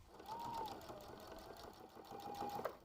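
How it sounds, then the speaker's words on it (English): Sewing machine stitching close along a fabric edge for a prairie pillow, a quiet steady run with a faint whining tone and a small click at the end. "I'm going to take it to the machine and sew 1/8 of an inch away from my edges of my fabric"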